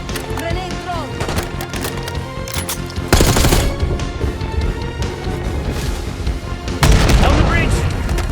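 Dense, loud gunfire and explosions fill a Call of Duty Black Ops 6 battle around a bridge, with rapid machine-gun bursts throughout and heavy blasts landing near 3 and 7 seconds.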